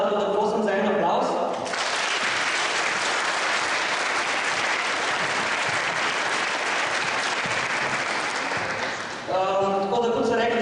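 Audience at the Slovenian national twirling championship breaks into sustained, dense applause lasting most of the stretch, bracketed by a speaking voice at the start and end.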